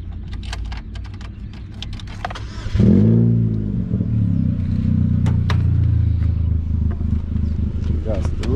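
A Chevrolet Cavalier LS Sport starts with keys jangling and clicks, then the engine cranks, catches with a brief rev and settles into a steady, close idle.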